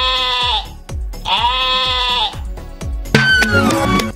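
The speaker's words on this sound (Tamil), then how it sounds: "ஆடு கத்தும்." A goat bleats loudly and close by in two drawn-out cries over a steady, thumping music beat, followed by a busier burst of mixed sound toward the end.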